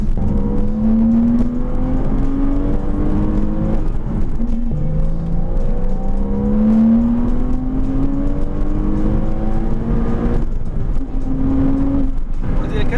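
A Porsche Cayman S (987) engine revs high and pulls through rising pitch sweeps again and again, a close, continuous roar with brief dips between gear changes.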